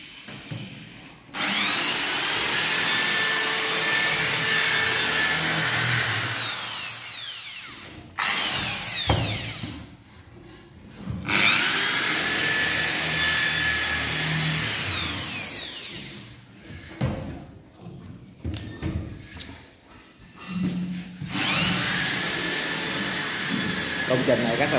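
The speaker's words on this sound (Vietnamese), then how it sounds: "để mình bắn ốc vít cho nó khuất đầu các bạn" A power screwdriver drives screws into board for a fake concrete loft floor on a house build in Soc Trang, with three long loud whirring bursts that rise in pitch, separated by short pauses with clatter and some talking.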